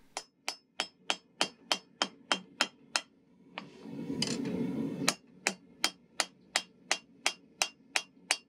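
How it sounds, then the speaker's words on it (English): Light hammer taps on steel over an anvil while forging a recurve hunting knife: a steady, evenly spaced run of sharp ringing strikes, close and clear, broken midway by a brief rough grinding or scraping noise before the tapping resumes. "now I'll be using light taps instead of hard blows with the hammer"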